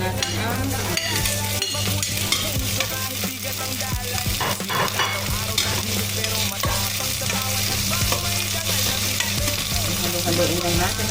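Onions and tomatoes being stirred in a pan, with a steady loud sizzle and repeated scraping strokes of the spoon running throughout, no talking.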